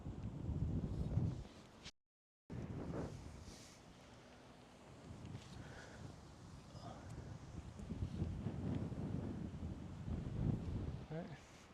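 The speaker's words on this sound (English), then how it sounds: "Wind is pumping out here at 20 to 25 miles an hour." Strong gusting wind buffets the microphone on a golf course, a rough low rumble that rises and falls throughout, with a short dropout early on and people talking over it.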